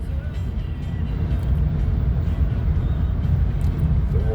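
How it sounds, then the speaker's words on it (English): A maroon, dark red and white Peterbilt 379 semi hauling a Wabash tanker rumbles past at speed, a loud, continuous low roar that holds steady throughout. "It's a Peterbilt."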